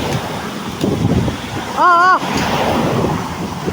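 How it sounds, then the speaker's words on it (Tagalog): Strong typhoon wind roars and buffets the microphone throughout, with a brief wavering whistle rising midway through the gusts. "Grabe ang lakas ng hangin oh."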